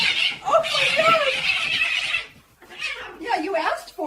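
A cat yowls and screeches at a dog in a video played back, a strained rising wail over the first two seconds, then a short gap and another drawn-out yowl; a person talks over it.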